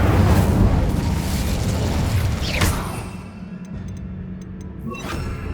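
An Incendio fire spell explodes in Hogwarts Legacy, a loud roaring burst with a crackling whoosh that fades out, followed by faint tinkling effects and a smaller flare at the end.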